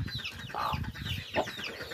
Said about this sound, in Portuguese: Já tem galinha no puleiro, 3 horas da tarde.